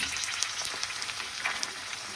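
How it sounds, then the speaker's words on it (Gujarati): Pani puri shells fry in hot oil with a continuous bright sizzle, full of small pops and crackles that are close and moderately loud throughout. "હવે આપણે પૂરી તરવા નાખી છે. જો તરાય છે ધીરે ધીરે."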